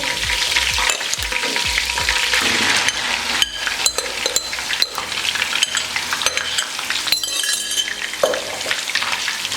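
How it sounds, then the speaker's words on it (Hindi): Marinated chicken pieces for chicken jalfrezi hit hot oil with ginger and garlic and fry in a pan, giving a loud, steady sizzle with scraping stirs and occasional clinks of a spoon against the pan, and no voices. "अब इसमें मैरिनेटेड चिकन डाल देंगे।"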